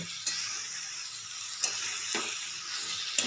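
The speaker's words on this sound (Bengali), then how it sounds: "পেঁয়াজটা এখন সবজির সঙ্গে একটু ভাজা ভাজা করে নেব" Onion fries with vegetables and greens in a pan over a raised gas flame, a steady soft sizzle with a few sharp stirring clicks scattered through.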